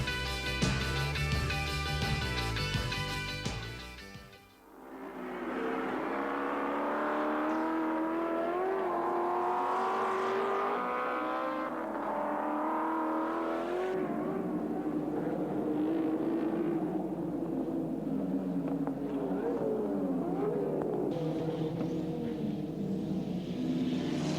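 Touring cars race at Calder Park during the 1986 Australian Touring Car Championship, with loud, high engines revving and shifting in rising and falling pitch sweeps that continue without a break as the cars pass close by.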